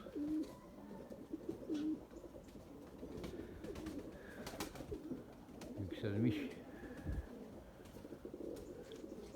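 Pigeons coo in a loft, soft repeated low calls rising and falling under a voice, with wing flutters and shuffling around them.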